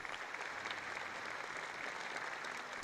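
An audience gives enthusiastic, sustained applause at the closing ceremony of the 17th Pyongyang International Film Festival, a continuous wash of clapping from a large hall that holds a steady, moderate level with no speech over it.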